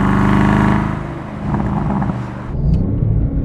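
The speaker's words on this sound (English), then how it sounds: "keeping it in lower gear and allowing me to stay high in the revs." A deep, loud engine roar from a BMW M850i held in low gear holds high revs, dips briefly, then climbs again, heard up close from inside the car.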